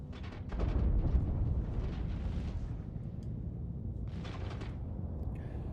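A spaceship's shields take weapons fire in Star Citizen, heard as a low, rumbling roar with muffled impacts and a few bursts of crackle, moderately quiet throughout.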